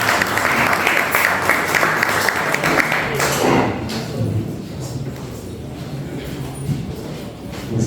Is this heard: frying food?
no